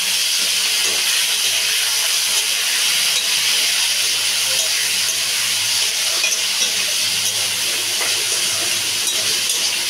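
Steady, loud sizzle of cut potatoes frying in a pan with browned onions, a dense hiss running unbroken throughout with no voices.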